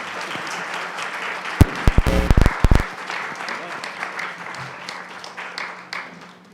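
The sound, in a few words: audience applause at mathlete competition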